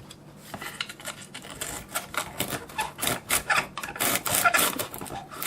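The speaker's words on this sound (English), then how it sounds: "I'm going to sand this other side" Sandpaper rasps back and forth against the edge of a battery cartridge part for a Freewing L-39 model jet, a close, steady series of gritty strokes that speeds up and grows louder toward the end.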